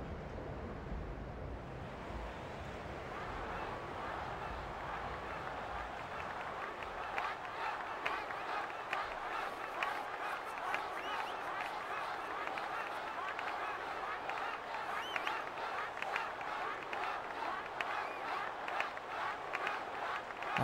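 Crowd cheering in the Blitzball stadium of the Final Fantasy X video game, a steady, dense roar of game crowd noise that holds for the whole stretch, with a voice talking over it.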